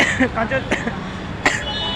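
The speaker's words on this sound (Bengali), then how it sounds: "আমার লেগে গেছে কাশি" A person coughs a few times up close at Kanchenjunga Stadium, short harsh bursts mixed with throat clearing and speech.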